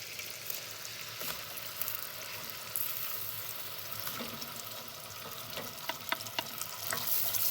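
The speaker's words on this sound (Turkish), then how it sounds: "Eti ekledikten sonra et yağ bininceye kadar kavurun diyor." Meat sizzles and crackles steadily in hot melted butter for Çankırı garlic meat, with a dense continuous fry and occasional stirring scrapes, close and without talk.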